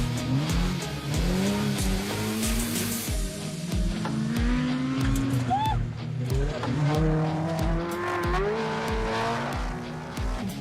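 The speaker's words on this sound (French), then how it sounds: "Freinage rapide, retour en seconde, puis plein gaz." Ferrari Monza SP2 braking hard, then downshifting to second before going to full throttle, engine pitch falling through blips and rising again under loud, continuous mechanical roar.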